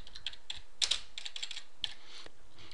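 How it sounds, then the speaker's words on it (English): Typing a docket number on a computer keyboard in an office docketing system, with a run of light, irregular key clicks at close range and a couple of sharper taps, no talking. "So I'll just type in a docket number"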